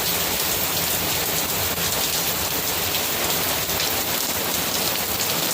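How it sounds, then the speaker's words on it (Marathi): Heavy rain pours steadily and densely throughout, a continuous loud hiss of drops hitting surfaces with no voices. "पाऊस आहे बघा, भरपूर पाऊस पडतो."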